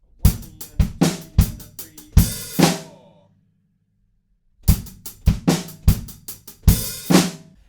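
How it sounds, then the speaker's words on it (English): Rock drum kit playing a stop pattern from a song: a run of sharp snare and cymbal hits ending in a flam on beat four, then silence, then the same figure repeats, loud and alone. "This time it's a flam on beat 4."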